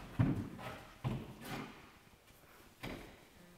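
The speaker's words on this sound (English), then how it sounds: "She goes easily into the trot." A few hoof thuds sound at an uneven pace, soft and somewhat distant, with quiet gaps between them.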